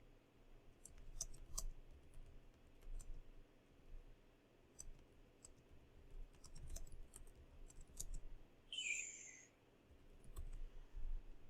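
Typing on a computer keyboard while entering a search query in an academic database, a steady run of light, close clicking keystrokes with short pauses, no voice heard.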